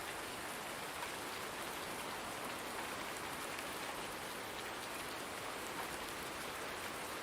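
Steady rain falls in the farming video game Farming Simulator 19, in a town setting, as a dense, even hiss that holds unbroken from start to finish with no voices.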